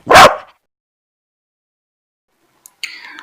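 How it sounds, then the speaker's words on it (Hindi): A dog gives one loud, close bark, then silence, then a few fainter yips or whimpers near the end. "डॉग, कुत्ता क्या भौंकता है तो बार्क बोलता है, और भौंकने को वूफ बोलते हैं"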